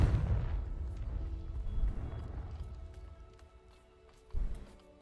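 A Confringo spell explodes in Hogwarts Legacy, a loud booming blast that rolls off into a long rumbling decay, then a second sharper thump near the end, with no talking.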